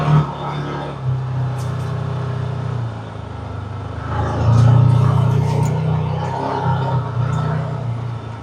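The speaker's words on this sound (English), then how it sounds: "I gotta pay attention to where I'm driving here" A car's engine hums at a steady, moderate level from inside the cabin while driving near a lake, a continuous low drone that swells a little midway as it speeds up, with road noise underneath.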